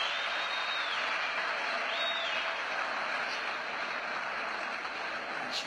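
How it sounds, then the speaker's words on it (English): At a karate kata final at the Open de Paris, a distant crowd keeps up steady applause and cheering from start to finish, a dense, even wash of sound. "Here we have crowd encouraging the Nakomi Maigeri Yovakovic."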